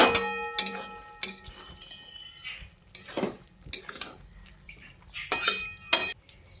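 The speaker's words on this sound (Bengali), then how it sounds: "এবার একবার ভালো করে সব কিছুকে নেড়েচেড়ে মিশিয়ে নিচ্ছি" Spinach, radish and potato stirred in a metal pan with a spatula, a string of scraping strokes and sharp clinks against the pan in irregular bursts, close up with no talk.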